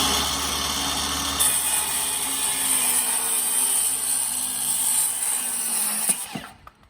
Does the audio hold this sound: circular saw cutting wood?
yes